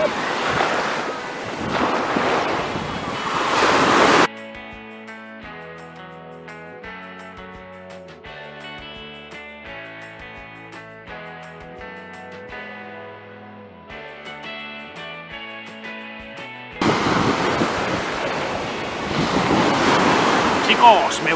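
Surf and wind on a beach: a loud, broadband rush of breaking waves fills the opening and closing few seconds, with tonal music playing alone through the long middle stretch.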